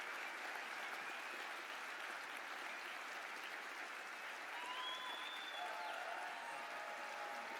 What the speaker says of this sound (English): could I ask you now please to stand and give a round of applause for those people